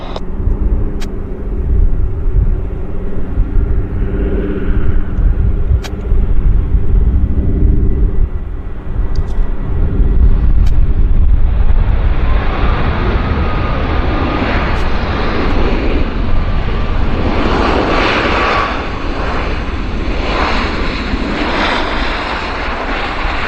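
A large passenger jet takes off from a runway at Vancouver airport. A loud, sustained engine roar with a deep rumble builds into a broad, rising whine as the plane accelerates, heard alone from a distance with no talk.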